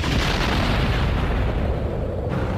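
Explosive packets thrown down from windows onto tanks in a Vietnam War urban ambush, heard as a dense, continuous roar of blasts and rumble that stays loud throughout.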